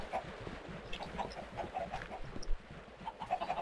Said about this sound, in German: Oh, Huhn!